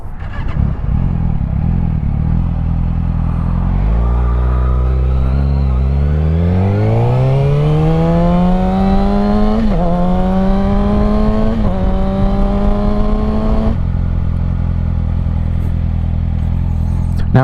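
A motorcycle, heard up close from the rider's position, idles and then accelerates through several gears, its engine pitch climbing and dropping at each shift before settling back to a steady idle, with wind and road noise throughout.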